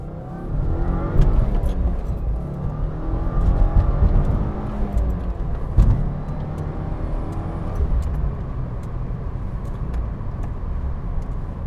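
Muscle car pulling hard through the gears, a loud close engine roar rising in pitch with each pull and dipping briefly at a shift, continuous throughout.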